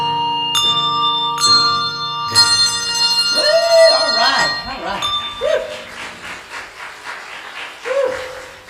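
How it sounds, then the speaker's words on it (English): Church bells are rung by one person up in the tower: several bright, ringing strikes with long decaying tones early on, then fading resonance as the ringer exclaims and speaks, breathing hard. "Ringing bells up here by yourself is, number one, is crazy."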